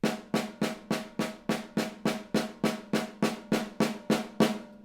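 Low, even drum strokes from a stick held only a few inches above the drum during a drum set warmup, about sixteen evenly spaced hits, each the same moderate volume, played alone with no talking.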